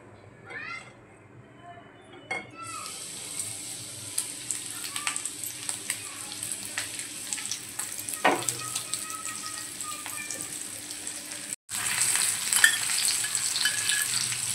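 Rava-coated pomfret hits hot oil on medium gas and fries with a bright, steady hiss, punctuated by clinks and spatters; the sizzle swells after a brief break near the end.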